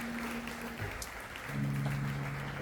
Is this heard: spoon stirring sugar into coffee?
no